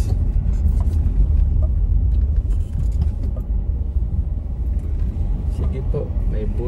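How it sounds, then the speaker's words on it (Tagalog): A large bus and other road traffic rumble past in a continuous, heavy low drone, loud and close throughout, with voices faintly present beneath. "At may bus na malaki."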